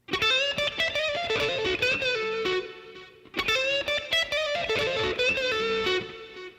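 Overdriven electric guitar plays a lick at full speed, a rapid flurry of notes repeated twice in quick succession, up close with no voices.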